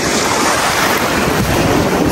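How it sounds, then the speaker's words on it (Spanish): Ocean surf rolls in at a beach in Veracruz, Mexico, a loud continuous wash of waves with heavy wind buffeting the microphone and no talk. "Vamos a ver qué tan fuertes están las olas por acá"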